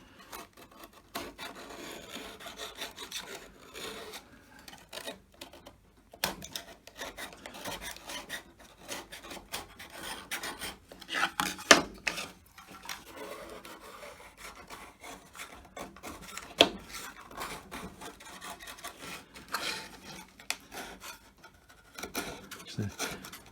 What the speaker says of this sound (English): whittling that's going to be almost as good as planing it